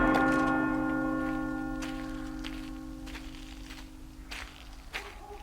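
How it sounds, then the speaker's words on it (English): A church bell of St. David's rings with a sustained, slowly fading toll, its ringing tones decaying over several seconds while faint scattered noises sit underneath. "I heard it tonight, the bell of St. David's."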